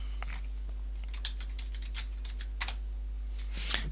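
Rapid, irregular clicks of fingers typing a password on a computer keyboard, close and fairly quiet, with a brief flurry of louder keystrokes near the end and no talking.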